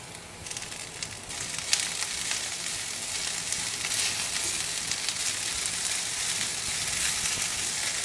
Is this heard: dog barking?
no